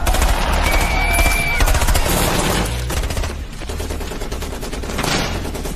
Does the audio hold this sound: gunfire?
yes